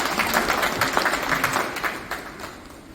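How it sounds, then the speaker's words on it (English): Audience applause at an art exhibition opening at Lalit Kala Akademi, a moderate patter of hand claps that gradually thins and fades toward the end. "Big round of applause."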